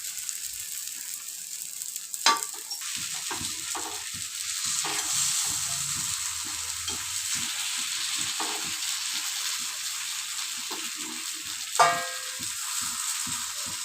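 Kuzhi paniyaram and a small dosai with carrot topping fry steadily in a hot pan, a continuous close sizzle broken by a few louder scraping and turning clatters.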